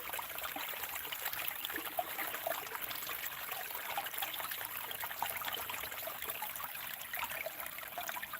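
Water flows steadily through a gold prospecting sluice outdoors, a continuous trickling, splashing rush at moderate distance with no talking.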